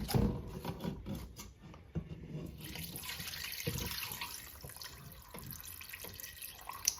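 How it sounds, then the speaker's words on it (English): Water runs from a tap into a pan being prepared for stuffed Cornish hens, a steady hissing pour with some clinks and splashes, fairly quiet and close, with no talking. "put some water in here"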